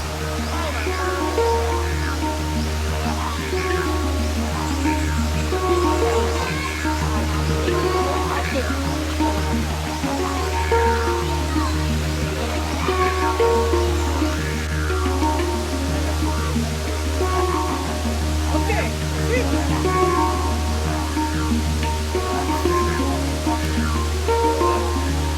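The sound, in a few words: waterfall in a forest in Thailand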